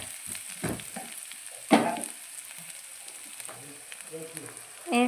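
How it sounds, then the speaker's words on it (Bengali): Spice paste frying on low heat for a jackfruit and shrimp dish, a soft, even sizzle with a few spoon scrapes and knocks against the pan. "ভালোভাবে ভেজে নেব।"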